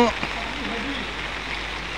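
Heavy rain pours steadily during flooding in Guwahati, making a continuous broadband hiss of falling water while someone talks briefly over it.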